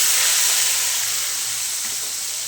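Ground ginger, garlic, onion and tomato paste sautés over low gas heat in a pan for a prawn malai curry, giving a steady, close broadband sizzle and hiss that holds evenly throughout with no talking.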